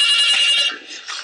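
A telephone rings loudly and close in a community radio studio, a shrill continuous electronic trill that briefly breaks off and then resumes.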